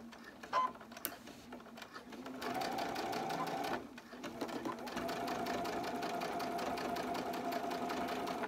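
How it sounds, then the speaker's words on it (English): Home sewing machine running a long basting stitch to hold fabric pieces together for a heating pad, a quiet mechanical whirring that starts and stops, then settles into a steady continuous run, close by. "I'm going to go at the longest length, sort of like a basting stitch, and sew down here just to hold these pieces together"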